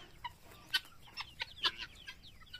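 A free-range Basilan Joloano native rooster gives a series of short, sharp clucks at an uneven pace, moderately close over a quiet farmyard background.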